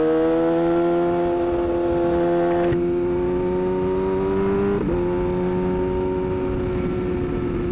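A Kawasaki ZX6R motorcycle being ridden for a suspension test holds a steady, loud, close engine drone, its pitch creeping upward with brief shifts and dips as the rider brakes and accelerates.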